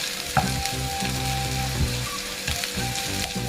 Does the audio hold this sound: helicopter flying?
no